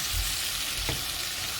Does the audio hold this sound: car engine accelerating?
no